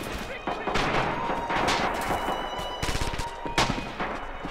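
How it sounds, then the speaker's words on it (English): Machine gun hip fire in the World War II shooter Red Orchestra 2, with loud rapid bursts of automatic fire, sharp repeated cracks, and other gunfire going off around it. "It feels like you're hip firing with a machine gun."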